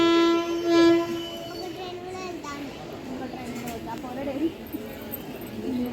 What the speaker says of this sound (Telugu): గైస్ ట్రైన్ కదిలే టైం అయింది